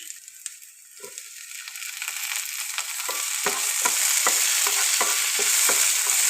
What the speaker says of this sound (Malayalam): അതിനകത്തിലോട്ട് തക്കാളിപ്പഴം ഇട്ട് വഴറ്റണം